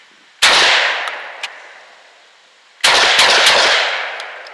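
12 gauge bullpup pump-action shotgun fired at an outdoor gun range, two loud, sharp blasts a couple of seconds apart, each followed by a long decaying echo.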